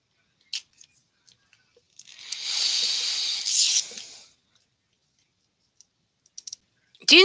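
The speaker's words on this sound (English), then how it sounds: "Unzipping." A zipper on a Zuru Mini Brands Series 2 toy package is pulled open in one steady two-second rip, preceded and followed by faint scattered ticks and rustles of handling in an otherwise quiet room.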